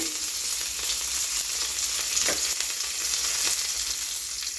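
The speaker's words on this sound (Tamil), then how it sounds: "கடுகு நல்லா பொரிஞ்சதும் கருவேப்பிலை போட்டுக்கோங்க நம்ம தாளிப்பு ரெடி ஆகிடுச்சு" Mustard seeds and curry leaves crackle and sizzle in hot oil as a tempering for radish chutney, a steady, close, bright hiss lasting throughout with no talking.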